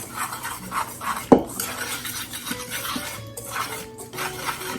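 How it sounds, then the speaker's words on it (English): Wire whisk scraping and rattling against a mixing bowl as baking soda, kosher salt and other dry cookie ingredients are combined, a steady close rasping with one sharp clink partway through. "And we're going to whisk that together"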